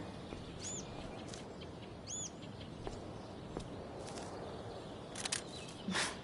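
A couple of short, thin bird chirps come from outdoors near Blackwell Academy in Life is Strange: Before the Storm, faint and sparse over a soft ambient hiss, with a few light footstep-like taps.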